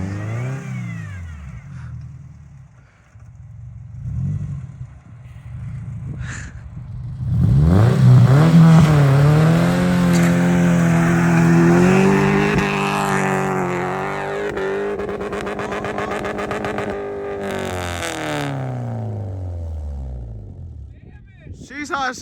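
A Subaru SUV stuck high-centered in snow revs hard: after quiet moments with a few voices, the engine climbs to a loud, sustained, wavering whine that holds for about ten seconds before it falls back.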